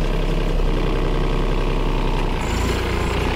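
A Mahindra OJA 2130 tractor engine starts and settles into a steady idle, a loud close low diesel throb with a regular mechanical chug and no talking.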